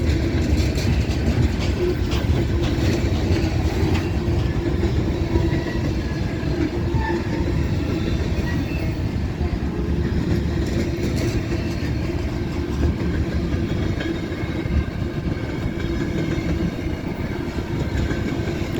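A long freight train rolls past nearby on a rainy day. The heavy, continuous rumble of its cars stays loud and even the whole time, with faint wheel clatter running through it.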